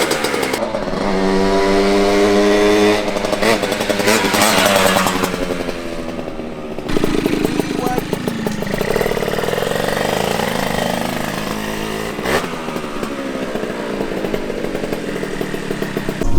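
A Yamaha Banshee two-stroke ATV engine runs close by, a loud, raspy buzz that revs and settles in uneven surges, then drops to a steady idle rattle for the remaining stretch with no voices over it.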